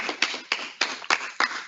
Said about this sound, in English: One last round of applause for all four of them.